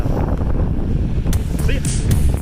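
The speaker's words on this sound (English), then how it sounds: "it's cold and windy" Wind gusting on a cold mountain trail of the Appalachian Trail, a loud, low roaring buffet against the microphone that holds steady throughout, with no talk over it.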